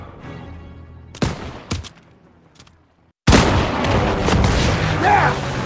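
Gunfire in the Call of Duty: WWII video game: a couple of sharp shots, then a gap of near silence, followed by a loud sustained burst of battle noise with continuous firing and explosions.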